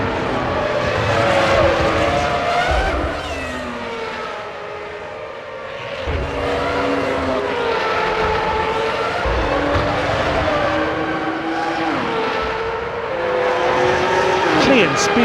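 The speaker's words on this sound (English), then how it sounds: "Klein speeds away from his garage" Christian Klein's Jordan Formula One car in the Formula One 05 game pulls away from its pit box during a French Grand Prix pit stop, engine note rising through gears, loud and close under steady commentary-style speech.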